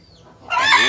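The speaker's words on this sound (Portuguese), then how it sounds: "faz tempo que eu corro atrás desse galo" A rooster being chased and caught lets out a loud, close squawk that swells abruptly and holds for a moment.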